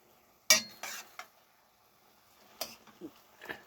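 Fish cakes with a few cloves of garlic, soy-based seasoning and a little water cook in a pan. Sparse, sharp clinks and scrapes of a utensil against the pan come in a few separate bursts with quiet gaps between.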